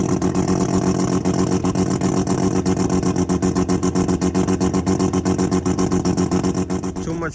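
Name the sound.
1000hp single cam race car engine starting and revving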